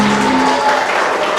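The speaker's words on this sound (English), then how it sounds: "Give yourself a round of applause" Applause from an elementary school assembly audience, a broad dense wash of clapping filling the whole short stretch, loud and steady with a faint tone early on.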